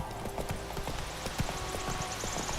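Roach the horse gallops in The Witcher 3, quick rhythmic hoofbeats clip-clopping steadily over a constant background wash, close and fairly loud for a few seconds.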